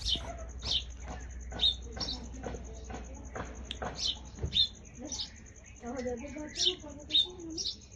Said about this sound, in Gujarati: ચકલું ક્યારનું બૂમ માર્યા કરો છે